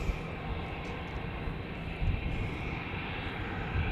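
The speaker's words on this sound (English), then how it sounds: "I quickly want to show you then the Embraer 190 of Air Bulgaria" An Air Bulgaria Embraer 190 jet at Zurich Airport produces a faint, steady distant engine rumble with a broad roar, continuous throughout and without speech.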